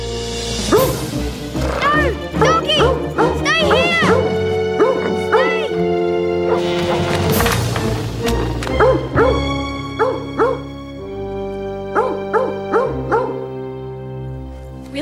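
A dog barks and yips in repeated short bursts, close and loud, with whimpering tones between barks and brief voices mixed in over the noise.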